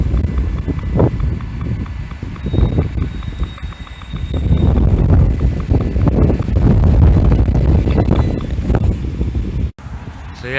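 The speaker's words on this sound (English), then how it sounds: "the wind's getting a bit crazy again" Strong wind buffets the microphone outdoors in a deprived residential area, a loud, continuous low roar that swells and surges throughout, with gusts peaking in the middle before a brief drop near the end.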